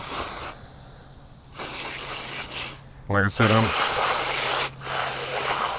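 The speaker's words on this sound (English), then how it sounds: "I'm going to go ahead and spray this off, get it nice and clean" Water sprays in hissy bursts from a nozzle onto kale, starting and stopping, while a person talks briefly over it.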